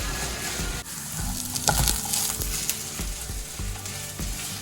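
Pieces of ivy gourd (dondakaya) fry in a pan with steady sizzling, broken by scraping, clattering stirs of a spatula against the metal.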